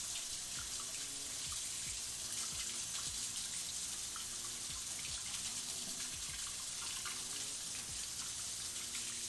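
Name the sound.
rinsing basil sprigs under running tap water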